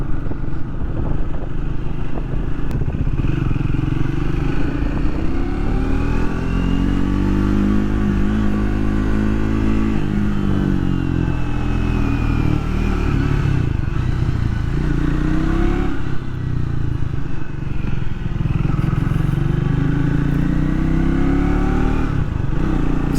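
A Triumph Speed 400 motorcycle being ridden, its engine droning loud and close throughout with rising and falling revs as the rider shifts, under steady wind rush.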